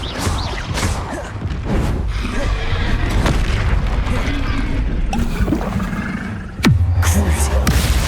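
Confringo fire spell bursting in Hogwarts Legacy, a loud booming blast with whooshing magical effects and a sharp impact near the end, continuous and close.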